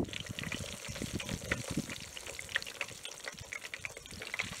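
Tacos fry in a pan at home for dinner, giving a faint, continuous crackling sizzle with irregular pops and spits throughout.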